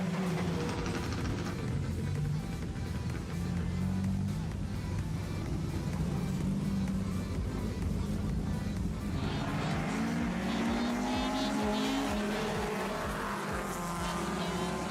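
Race cars at Gympie Speedway during an AMCA Nationals feature race, a continuous loud roar of several engines that rises in pitch and intensity as the pack sweeps around the dirt oval, with no voices.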